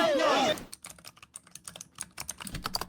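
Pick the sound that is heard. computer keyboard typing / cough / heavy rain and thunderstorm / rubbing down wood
computer keyboard typing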